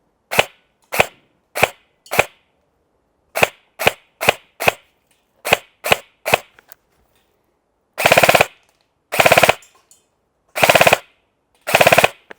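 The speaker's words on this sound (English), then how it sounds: "we're going to do a couple at the close range target, but with this being a bit more of a longer profile, we will take a few shots at that far end target" A Double Eagle RLA 5.56 rifle fitted with a Kestrel fires sharp, loud single shots outdoors, first in a quick irregular string of about eleven. Four heavier, longer-ringing reports follow at wider intervals.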